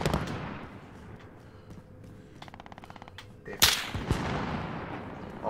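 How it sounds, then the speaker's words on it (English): Gunfire crackles in the video game Call of Duty Warzone. A quick rattling burst is followed by a louder sharp shot and more scattered fire, heard up close and fairly quiet overall. "someone else is shooting me!"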